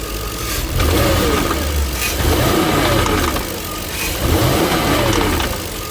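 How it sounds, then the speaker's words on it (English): A 1999 Jaguar XK8 engine runs steadily, its pitch rising and falling in repeated swells as it revs and slows, with a faint metallic rattle from the catalytic converter on deceleration. "it's got a rattle in the catalytic converter, and you can only hear it when you de-accelerate."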